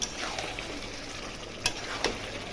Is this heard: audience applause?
no